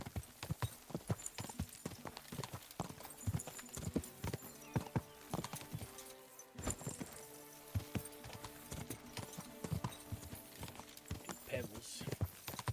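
Horse hooves clip-clop steadily in Kingdom Come 2, a rhythmic run of close, even hoofbeats over a medieval countryside soundscape, with a brief lull partway through before the trotting resumes.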